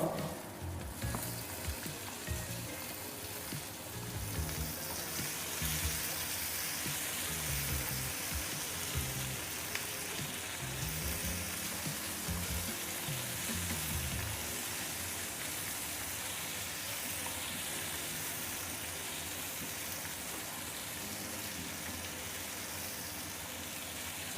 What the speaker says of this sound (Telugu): వెంటనే ఉల్లిపాయ వేసుకుందాం.